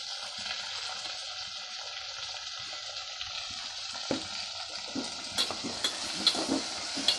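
Chopped tomatoes go into a pan for a ladies finger and tomato curry and are stirred, giving a steady soft sizzle with scraping stir strokes and light knocks growing more frequent toward the end, close by with no talking.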